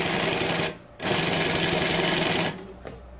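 New-Tech GC-8B cylinder bed industrial sewing machine stitching at higher speed, a loud, steady mechanical whir that stops briefly, resumes, then cuts off near the end.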